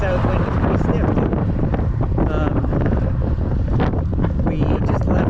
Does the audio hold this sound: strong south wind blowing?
yes